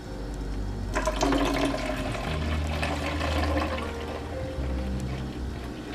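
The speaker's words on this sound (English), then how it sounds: "We're just going to pour this in our pitcher and finish flavoring it." Homemade Jamaican carrot drink pours into a pitcher in a continuous gurgling, splashing stream, close and steady over several seconds with no talking.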